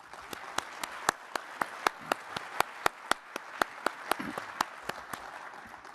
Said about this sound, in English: Please join me in a round of applause for these winners.